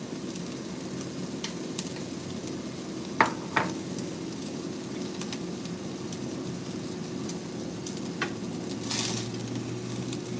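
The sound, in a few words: tomatoes being stirred and frying in a pan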